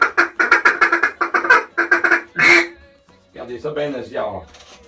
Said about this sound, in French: C'est ça les appels de retour au canard?